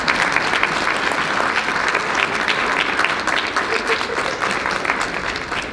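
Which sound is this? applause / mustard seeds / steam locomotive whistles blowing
applause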